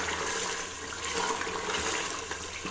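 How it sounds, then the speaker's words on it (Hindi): Water pours steadily and fairly loudly into a pot of aloo gosht being cooked in a home kitchen, a continuous close splashing rush with no voices. "वही वाले 3 ग्लास इसमें मैं पानी डाल रही हूँ"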